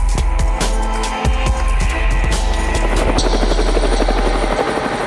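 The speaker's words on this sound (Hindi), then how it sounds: "इस हेलीकॉप्टर का" A military helicopter roars loudly and close, its rotor chopping in a fast steady pulse over a constant deep engine drone, with the whine shifting partway through.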